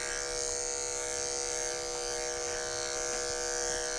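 Electric dog grooming clippers fitted with a 4 snap-on comb buzz steadily and loudly up close while tapering a dog's leg, a continuous motor hum with no talk.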